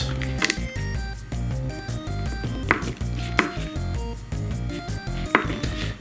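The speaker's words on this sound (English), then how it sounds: "We begin by cutting up 2 tablespoons of butter into little pieces" A knife cuts two tablespoons of butter into small pieces for a chicken stew, a few sharp, scattered taps on a board over steady background music.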